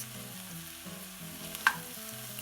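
Butternut squash frying in oil in a pan while being stirred: soft, steady sizzle with scraping stir sounds and one sharp clack near the end, close by.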